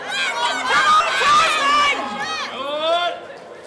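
A room full of spectators shouts and cheers in support of a powerlifting record attempt at a Home Nations competition, with excited overlapping voices and yells rising and falling close by.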